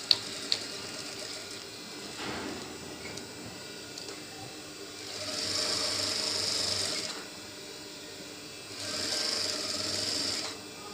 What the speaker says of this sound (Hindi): अभी इसके ऊपर सिलाई लगानी है